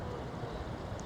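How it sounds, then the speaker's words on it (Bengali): Raidak river water rushing steadily in a quiet natural setting, a dense continuous wash close by with no voices. "আর শুধু নদীর জলের আওয়াজ ছাড়া,"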